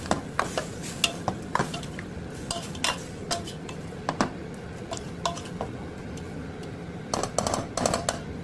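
Mushroom and tomato curry stirred in a pan, a spoon scraping and clinking against the metal in irregular strokes over a faint low sizzle, close by with no talking.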